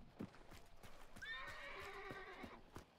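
A horse in the video game Hunt: Showdown whinnies loudly for over a second, its rising and falling call ringing clearly over steady hoofbeats and background game sounds.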